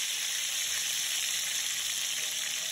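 Floured meat in a hot skillet sizzles in a dense, steady hiss throughout, close and even with no talking.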